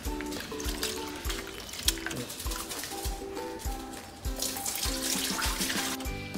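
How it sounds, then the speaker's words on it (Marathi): Water splashes and pours while soaked rice is rinsed by hand in a container, with uneven sloshing, trickling and several soft knocks close by, and no voices. "आपण पुन्हा एकदा तांदूळ धुवून त्यात पाणी टाकून"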